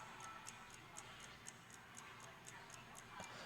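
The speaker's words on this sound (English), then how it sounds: "I can hear a clock on my wall." A wall clock ticks steadily at an even, unhurried pace, each faint, crisp tick evenly spaced over a soft hiss of room noise.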